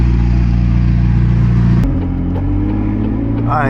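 A McLaren sports car engine drones loudly from inside the cabin on a night drive, then its pitch drops as the gear changes and the steady hum continues.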